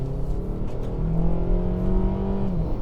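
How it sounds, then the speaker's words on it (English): An Acura TLX sedan engine without a turbocharger revs up steadily, its rising hum growing louder and smoother as it accelerates, with no voices. "that engine, I think, just sounds a little bit better without having that turbocharger on it"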